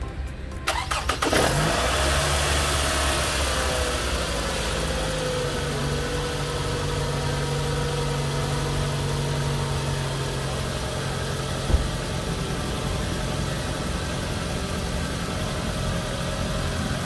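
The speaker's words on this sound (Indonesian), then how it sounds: "Sekarang kita akan coba hidupkan mesin mobilnya." A car engine cranks and fires after its cleaned aftermarket air filter is refitted, then settles into a steady, even idle that drones on loudly with no talking.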